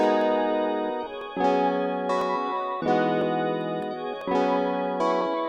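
Chord progression in an FL Studio beat with an ambient background pad and a spacey synth layer, as sustained synth chords that change about every second and a half, with no voices.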